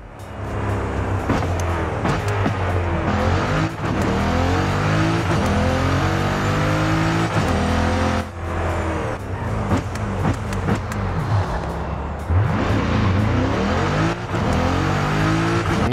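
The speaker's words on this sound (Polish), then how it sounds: "jeśli chodzi o ten dźwięk samochodu, zwłaszcza, że to jest hybryda" Corvette E-Ray hybrid sports car engine in the racing game Forza Horizon 5, a loud continuous drone with rising and falling revs and gear changes, tire squeal mixed in, with no voices.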